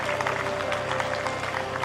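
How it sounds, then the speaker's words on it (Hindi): Brief steady applause from an audience at a school annual function, dense clapping held at an even level. "तालियां बजा दीजिए"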